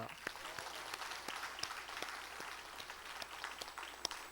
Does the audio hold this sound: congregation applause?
yes